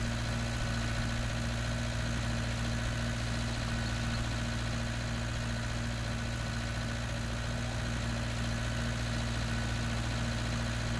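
A tractor engine in Farming Simulator 19 drones steadily at a low, even idle, with a constant hum and no change in pitch or loudness, heard alone without voices.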